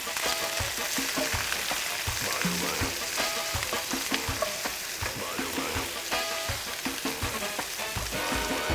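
Meatballs with onions and garlic browning in olive oil in a pan give a steady, dense sizzle and crackle, moderately loud, with occasional clinks and no talking.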